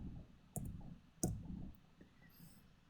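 A few quiet, close keyboard taps are heard as a number is entered, with two sharper keystrokes among softer clicks in a still room.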